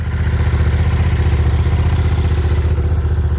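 A recovered KTM Duke motorcycle engine, its steering lock broken, runs loud and close in an alleyway with a steady, rapid pulsing throb and a faint mechanical clatter.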